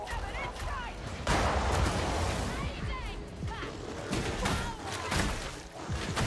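Sniper rifle shots in a video game, a few sharp cracks that stand out against busy game sound and overlapping voices.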